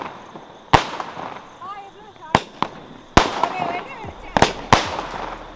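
A 120-shot Diwali firecracker battery fires in a series of sharp, loud bangs spaced irregularly, with whistling crackles between the blasts and people's voices underneath.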